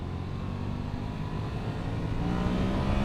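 A Yamaha MT-07 motorcycle engine accelerates in a steady, loud, buzzing drone whose pitch climbs slightly, with no voices over it.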